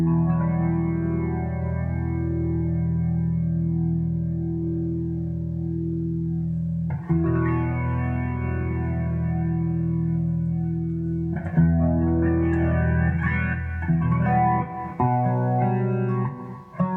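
Electric guitar run through a Kemper profiler with reverb and delay, long sustained distorted chords ringing out loud and alone, changing chord twice with a wash of echo trailing behind.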